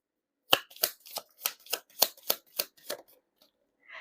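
Cards drawn one after another from a tarot deck: about nine crisp, close slapping snaps in a steady rhythm, then a soft shuffle at the end, with no talking.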